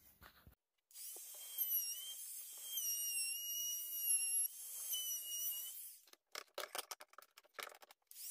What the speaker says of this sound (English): take my little rigid palm router with a 1/4 inch round over bit, go around the edge of this